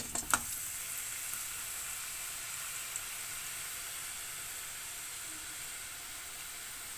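Masala peanuts frying in hot oil give a steady, fairly faint hiss and sizzle throughout, with a couple of light clicks near the start and no voices.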